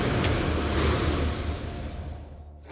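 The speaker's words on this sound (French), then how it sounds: "À La Rochelle, les premières vagues débordent sur le" Storm waves surging over the harbour edge at La Rochelle, France, as a violent coastal storm arrives at night, a loud broadband wash of surf and wind that holds steady, then ebbs and fades toward the end.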